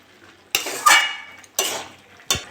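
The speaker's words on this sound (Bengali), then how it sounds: "এটা নেড়ে চেড়ে নেবো।" A spoon scrapes and stirs a cabbage chorchori with potato, drumstick, eggplant and pumpkin in a metal pan, three distinct scraping strokes with brief pauses between them, close and clear.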